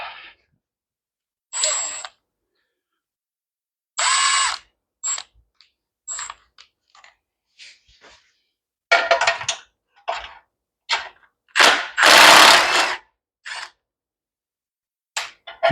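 Short bursts of a power tool whirring in close, separated by silences, along with scattered metallic clicks and clinks, about a dozen bursts in all.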